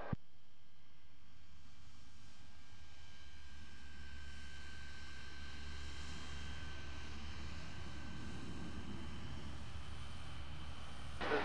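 An aircraft approaching to land on runway 01 at Brisbane gives off a low, steady, distant engine drone with a faint high whine. It holds even and unbroken throughout, and no one speaks over it.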